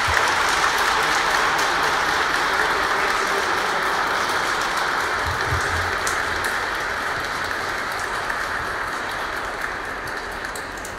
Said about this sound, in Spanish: Nosotros vamos a darles un fuerte aplauso para felicitarlos